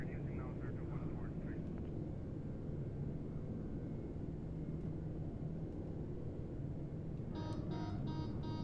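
Captain Sim L1011-1 airliner in British Airways colours landing in a flight simulator, a low steady engine rumble and cockpit hum throughout, with a brief electronic tone near the end.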